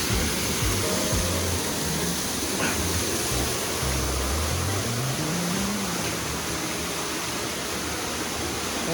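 A waterfall at a holiday resort in Turkey pours steadily, giving a dense, constant rushing hiss that fills the scene without pause, with a faint low engine-like hum drifting underneath.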